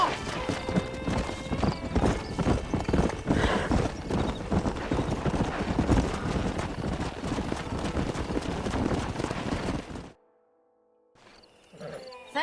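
Horses in a Red Dead Redemption ranch scene, with rapid clip-clopping hooves, snorts and a whinny filling most of the stretch before the sound drops away abruptly near the end, leaving faint noise.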